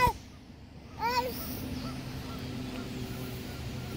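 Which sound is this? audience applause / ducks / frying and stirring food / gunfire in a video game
ducks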